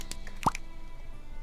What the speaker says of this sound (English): Dilapidated horse jumped into the cup of water.